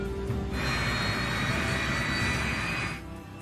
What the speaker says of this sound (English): The crew starts the Yak's 3 engines.